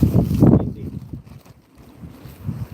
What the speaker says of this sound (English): We're getting some wind here tonight.